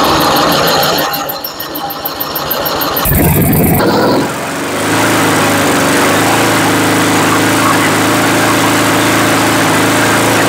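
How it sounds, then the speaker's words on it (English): A Tecumseh engine on a Toro 828LE snow blower catches after a cranking stutter, then settles into a loud, steady, close-up running drone. "we now know the engine runs, we have spark"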